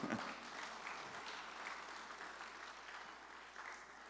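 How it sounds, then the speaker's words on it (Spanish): Church congregation applauding during a sermon, a steady wash of many hands clapping at a moderate, somewhat distant level throughout. "Denle un aplauso al Señor."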